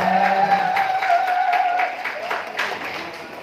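Applause and clapping from an event crowd at a fifth-anniversary gathering in Takalar, continuous and fairly loud throughout, with a sustained tonal ring and some voices mixed in, tapering slightly toward the end.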